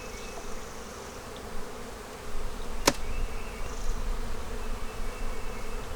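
Honey bees in an opened hive give a steady, close buzzing drone, interrupted once by a single sharp click.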